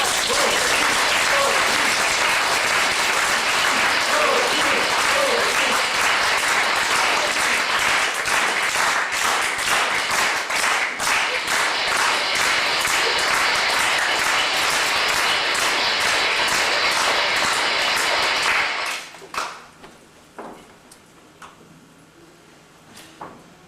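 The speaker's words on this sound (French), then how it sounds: "On applaudit très fort Pauline et Janine." Theatre audience giving loud, sustained applause for two performers, a dense roar of clapping that cuts off abruptly near the end, leaving a few scattered claps and room noise.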